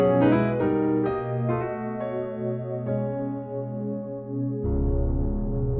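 Keyboard chords ringing out in an ending progression over a flat-7 bass note, a handful of sustained chords struck one after another before a final low chord, played quietly with no talking.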